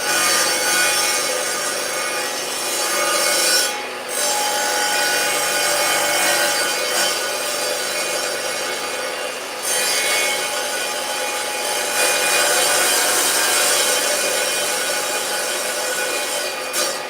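Steady hand sawing through wood, a loud, continuous rasping stroke pattern with brief pauses between runs of strokes, close up and mostly alone.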